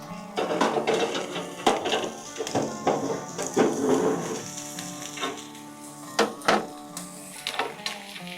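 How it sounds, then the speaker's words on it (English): A ribeye steak on a propane-fired cast iron griddle, a steady sizzle with a run of sharp metallic clicks and scrapes at an uneven rhythm, close and moderately loud, with someone talking over it. "let's go ahead and rock a ribeye steak on that cast iron griddle"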